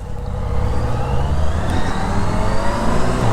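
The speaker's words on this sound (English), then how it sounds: "That sounds nice, that BMW." A BMW motorcycle engine runs with a steady, broad roar on the road. It is loud and close, and the drone holds even with no clear rev changes.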